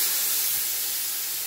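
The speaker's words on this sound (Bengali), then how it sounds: "এদিকে বসিয়ে দিয়েছি মাছ ভাজা।" Fish frying in a pan gives a steady, loud hiss and sizzle that holds evenly from start to end, close by, with no talking over it.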